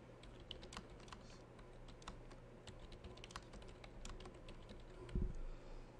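Steady, fairly quiet typing on a computer keyboard, with a dense run of light key clicks going on throughout and a slightly heavier thump near the end, set against a low background hum.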